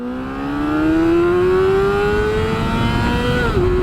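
A 2008 Honda CBR 600RR, a 600cc sport motorcycle, revs hard and climbs steadily in pitch for several seconds, a loud close whine that dips briefly near the end as it shifts, with no talk over it.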